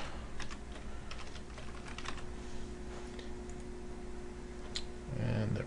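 Someone types a new password on a computer keyboard, a quiet patter of close key clicks in uneven bursts. A faint voice is heard near the end.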